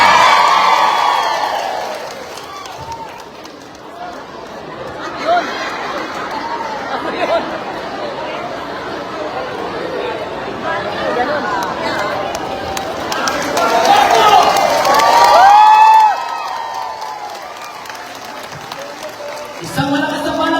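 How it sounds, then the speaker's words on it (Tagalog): A crowd at a Filipino political rally in Oriental Mindoro claps loudly and shouts and cheers, a dense sustained roar with excited voices rising near the end before a sudden drop. "Isang malakas na palakpakan pero may kasamang hiyawan."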